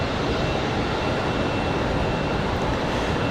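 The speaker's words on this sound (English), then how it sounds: "I think that's JetBlue headed out towards the end of the runway." JetBlue airliner taxiing toward the end of the runway at Raleigh Durham International on a windy day, a steady broad engine roar with wind noise, constant and fairly loud throughout with no talking.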